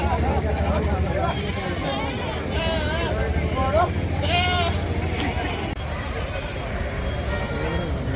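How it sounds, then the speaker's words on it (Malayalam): Goats bleat again and again at a busy rural goat market, with calls rising over a steady babble of crowd voices and general market noise. "ആടുകൾ വന്നിങ്ങനെ ആടുകൾ ഓരോരുത്തർ കൊണ്ടുവന്ന് കെട്ടി ഫുള്ളാകുന്നേ ഉള്ളൂ"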